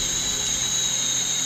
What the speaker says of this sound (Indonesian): Tenaganya juga oke untuk mengebor kayu yang keras ini.